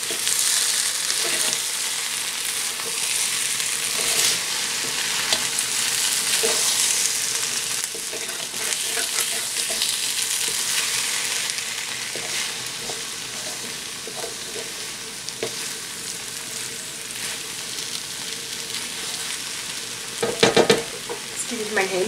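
Steady sizzling and scraping as fried rice with egg and vegetables is stirred in a hot pan, with occasional louder clatters near the end.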